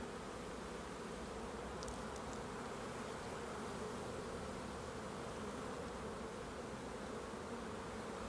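Honeybees buzzing inside a beehive during a February colony check, a steady, dense hum that holds evenly throughout at close range, with no voices.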